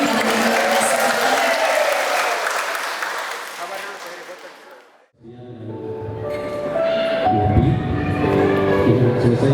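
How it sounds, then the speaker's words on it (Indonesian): Applause from the congregation greets a newly married couple at a Toraja church wedding, steady crowd clapping that fades out about halfway before music with organ-like tones takes over. "Mari kita berikan tepuk tangan kepada komunitas kita."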